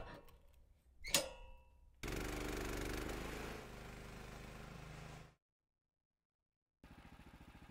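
Woodland Mills HM130 Max portable horizontal bandsaw sawmill running on metal rails, a sharp knock followed by a loud steady machine drone for about three seconds, then silence and a brief return of buzzing.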